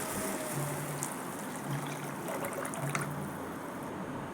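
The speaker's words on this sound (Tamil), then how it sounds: "புளி தண்ணியை சேர்த்துக்கலாம்." Tamarind water pours into a simmering fish curry in a pan, a steady close trickling and splashing wash of liquid without talk.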